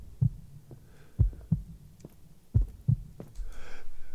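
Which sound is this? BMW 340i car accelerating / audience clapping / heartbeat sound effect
heartbeat sound effect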